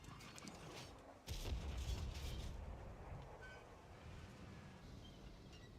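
A tank cannon firing in World of Tanks on console, a sudden loud boom at about one second followed by a sustained rumbling decay, with engine and battlefield noise underneath and no talk.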